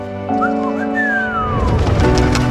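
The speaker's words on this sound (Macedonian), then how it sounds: "Татко ми и јас си имавме своја свирка." A person whistles loudly and close by, the family's signature call for a child to come home: a sustained tone with a rising and falling sweep over steady background noise.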